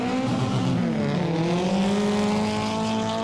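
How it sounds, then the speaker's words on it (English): Nissan S14 drift cars battle at a 2005 Formula Drift competition in Wall, New Jersey, with the Nitto Tire S14 leading: loud, continuous engine roar with rising and falling revs, plus tire squeal, heard alone. "Here we go, Casper in the Nitto Tire S14 is gonna lead"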